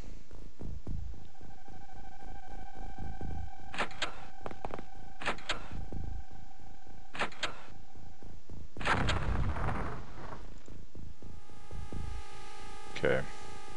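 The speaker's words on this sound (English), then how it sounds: "those are alien grenades that are being lobbed out into the open" Alien grenades exploding in the original XCOM video game: several sharp broadband bursts in close succession, with a larger blast near the middle, set over a steady electronic hum and drone.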